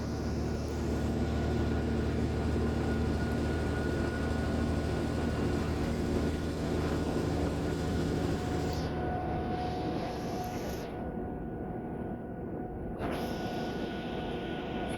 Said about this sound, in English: this train journey is on board Transpennine Express